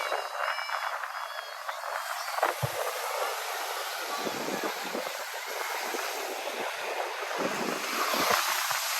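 Ocean waves wash onto a Malibu beach in a steady, broad rush of surf with wind buffeting the microphone, swelling and easing without pause and no voices.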